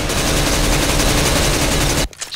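Sustained, loud CS:GO gunfire in a competitive match, a dense continuous burst of automatic shots that cuts off abruptly near the end.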